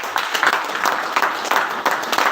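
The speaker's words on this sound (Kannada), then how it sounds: "ಕಂಗ್ರಾಚುಲೇಷನ್, ಜೋರ ಚಪ್ಪಾಳೆ ಕೊಡ್ಬೋದಾ?" A seated audience at a business motivational meeting bursts into sustained applause after a woman is congratulated, steady dense clapping filling the room without pause.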